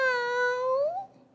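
A performer in a children's theatre show imitates a cat with a single clear, drawn-out meow that holds steady, then bends upward near the end before trailing off into quiet.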